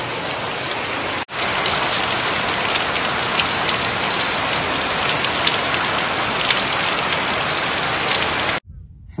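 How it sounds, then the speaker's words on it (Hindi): Steady rain falls in sunshine at a farmhouse, a dense, continuous hiss of drops on surfaces that starts abruptly, holds loud and even for about seven seconds, then cuts off. "ବର୍ଷା ଦେଖନ୍ତୁ, ବର୍ଷା ବି ହଉଛି ଖରା ବି ହଉଛି"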